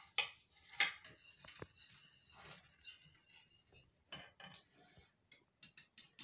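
Sifted flour is mixed into cake batter in a bowl, giving quiet, irregular clinks and soft scrapes of a utensil against the bowl with brief pauses between strokes.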